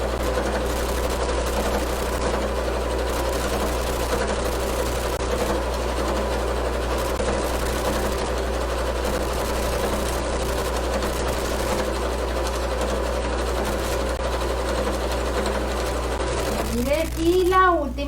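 A Piccolo sewing machine stitches a glasses case with a clasp, its motor whirring in a steady, even hum that runs close and continuous throughout, broken only by a brief voice near the end.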